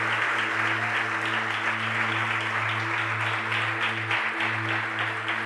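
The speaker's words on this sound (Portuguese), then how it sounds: "Se você crê, aplauda Ele bem forte." A congregation at a Portuguese-language church service claps vigorously and evenly throughout, over a steady low electrical hum in the room.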